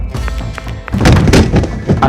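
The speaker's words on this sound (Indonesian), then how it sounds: "lemarinya roboh dalamnya" A heavy wooden cabinet toppling over indoors, one loud close crash with a deep thud and a rattling clatter of contents that spreads out and lingers for about a second.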